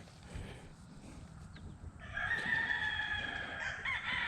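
Roosters crowing near a reservoir, one long drawn-out cock-a-doodle-doo rising in the second half over a low outdoor rumble, moderately close and clear with no talking.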